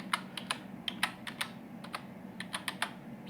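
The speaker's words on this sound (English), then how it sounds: "here I am typing my name" Fingers type a name into a web form on a computer keyboard, giving quick, irregular clicking keystrokes. The keys are close and crisp with no talking.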